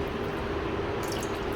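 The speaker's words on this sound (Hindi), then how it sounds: "मैं इसमें अभी रूम टेम्परेचर का पानी डाल रही हूँ" Room-temperature water poured into a pressure cooker for Bong nihari, a steady close splashing pour that runs continuously without pause.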